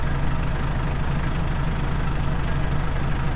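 A tractor engine runs close and loud with a steady low throbbing drone, the revs held only slightly raised and level throughout, with no talk over it.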